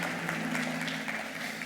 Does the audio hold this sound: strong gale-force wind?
no